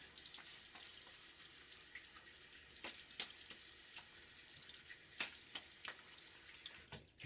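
Tap water runs into a sink for a quick rinse during a shave, a steady, fairly quiet splash with small clinks and knocks of a razor or hands under the stream.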